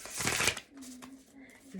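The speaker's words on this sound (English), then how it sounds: "I'm gonna cut the deck." A deck of tarot cards being cut and riffled by hand, a brief close burst of papery flutter followed by quieter card handling, with a voice speaking.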